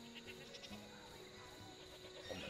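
A goat in the Hannah Montana: The Movie Wii video game bleats over a dense bed of in-game music and noise, its short cries fairly faint and partly buried in the mix.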